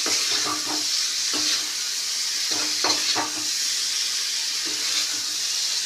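Onions and garlic fry in a pan for a fish curry, a steady close sizzle with a few spaced clusters of stirring scrapes and no talk.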